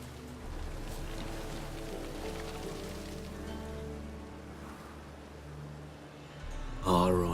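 Rain falls steadily in The Witcher 3, a soft continuous hiss over low ambient rumble, with a brief louder burst near the end.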